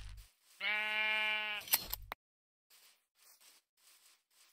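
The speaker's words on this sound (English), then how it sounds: "So, we got another sheep over there." A single drawn-out sheep bleat from the Minecraft ForgeCraft game, loud and nasal, lasting about a second and a half, followed by a few faint, scattered in-game sounds.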